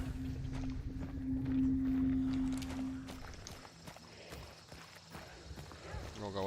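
Horse hooves clip-clop at a walking pace in a video game, mid-loud and close, with a steady engine-like hum and someone talking over them.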